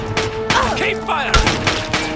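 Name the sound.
gunfire in the video game Fallout 3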